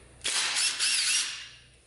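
A power tool spins off timing chain cover bolts during a Victory cam install, one close whirring burst of just over a second that briefly dips, then winds down.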